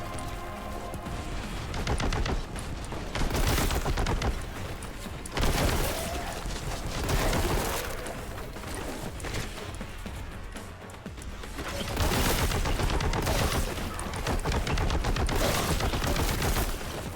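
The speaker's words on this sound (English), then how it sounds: "we can rely on the heavy machine gun for now" A heavy machine gun firing in the Warhammer 40k Boltgun video game, with sustained rapid bursts forming a thick, continuous clatter. Heavier impacts and crashes punctuate the fire over about seventeen seconds.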